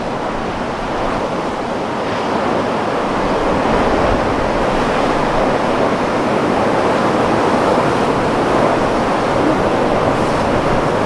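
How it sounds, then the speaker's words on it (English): Steady roar of ocean waves breaking at a surf beach, a dense, continuous wash of surf and wind noise that holds loud and unbroken throughout, with no voices. "there's definitely some waves. Should get better with the tide going out."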